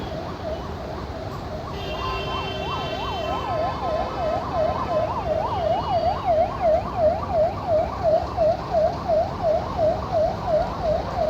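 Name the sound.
ambulance siren in city traffic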